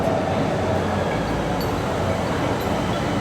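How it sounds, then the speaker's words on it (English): A Gold Line light rail train pulls into a station, a steady close rumble of wheels and rolling stock filling the scene with broad continuous noise and faint high squeals. "Here comes the train right now."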